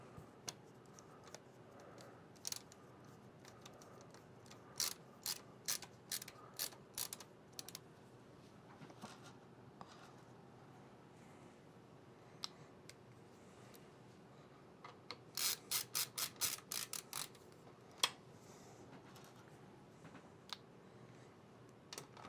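A screwdriver driving power supply screws during a theater room build makes faint, close ticking and rasping clicks, scattered early on and then a dense run of quick clicks partway through.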